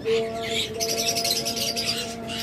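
A pair of lovebirds, one a creamino opaline female, chirps in a steady run of bright, close calls for a couple of seconds, with no voices over them.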